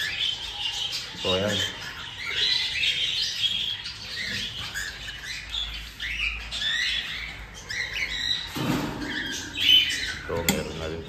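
Caged birds kept for breeding, including Emerald birds with chicks and eggs, chirp and squawk in bright bursts throughout, close by and fairly busy, while a person talks over them in the middle and near the end.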